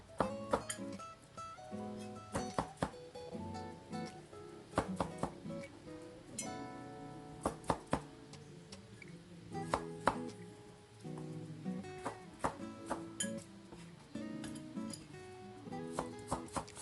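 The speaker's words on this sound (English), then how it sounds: "I also cut up some unripe papaya." A knife chops unripe papaya on a cutting board in a steady run of crisp, sharp knocks, close and repeated, with brief pauses between the bursts of cutting.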